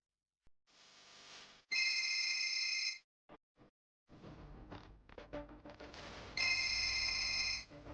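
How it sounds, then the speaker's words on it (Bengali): A telephone rings indoors in two bursts of electronic trill, each lasting about a second, separated by quieter rustling and clattering, with soft background movement between them. "কার ফোন রে? আরে তুলছিস না কেন তুই?"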